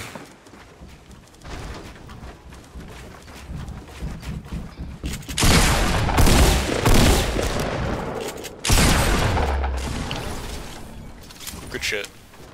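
Gunfire in the video game Fortnite, bursts of rapid shots and heavier blasts coming in loud waves over a steady game soundscape while players talk throughout.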